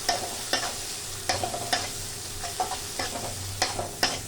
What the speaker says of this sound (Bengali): তেল ছেড়ে এসছে, আমি এই পনিরটাকে দিয়ে দেবো